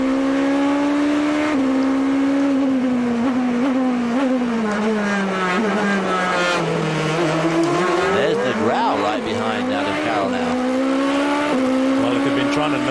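GP2 race cars at Bahrain howling past, engines rising and falling with tyre squeal as Bridgestone tyres lock up under braking, with a commentator talking over the engine noise.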